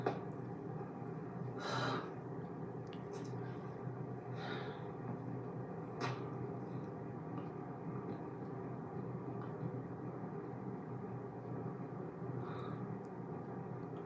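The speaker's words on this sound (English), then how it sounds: "Why are you breathing like that?" A person breathes heavily through the mouth, with a few faint, separate breaths over a steady low background hum and no talking.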